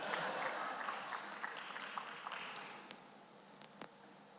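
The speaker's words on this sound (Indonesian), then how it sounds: "Oke, tepuk tangan buat tukang sulap." Quiet applause from a church congregation, a scattering of claps that thins out and fades over a few seconds, with a few isolated claps near the end.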